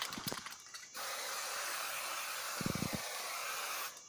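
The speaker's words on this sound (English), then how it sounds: "I'm gonna give it one extra spray." An aerosol can of water-repellent product sprays in one long, steady hiss of about three seconds, preceded by a few faint mechanical clicks, with quiet surroundings and no talk.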